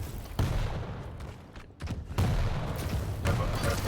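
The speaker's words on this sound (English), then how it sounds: "Good try with a rocket spam by Nixovich" Rapid rocket explosions in a Rocket Jump Zone duel match, a dense barrage of booming, crackling blasts that briefly fade and then resume loud and continuous.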